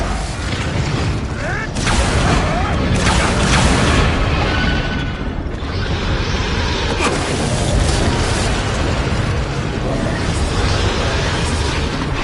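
Bombarda spell explosions in Hogwarts Legacy during a dragon fight, dense booming blasts and crunching mechanical crashes layered over loud constant combat noise, with some voices in the mix.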